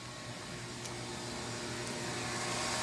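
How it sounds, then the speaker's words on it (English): A vacuum hose held in the bottom opening draws air with a steady, whining suction roar that swells slightly toward the end, with no talking. "put the vacuum hose through here into the bottom and just hold it in until it starts sucking"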